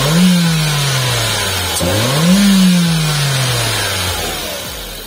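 A 2017 Mitsubishi Xpander Sport pre-facelift with the 1500cc 4A91 engine starts up close by, then revs up and settles twice, with a loud, steady engine drone throughout.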